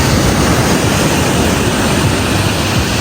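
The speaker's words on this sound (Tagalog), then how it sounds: "papanoodin mo yung pag-alon ng mga tubig" Water waves rolling and washing in a steady, loud rush, a constant churning roar with wind buffeting the microphone.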